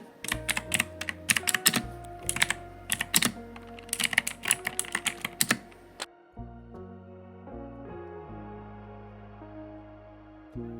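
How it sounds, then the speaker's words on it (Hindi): Keystrokes on a computer keyboard while entering a web address into an Excel spreadsheet, a quick irregular burst of close clicks for about six seconds, then quiet with a low tonal background. "जैसे मैं यहाँ पर टाइप कर देता हूँ www.google.com"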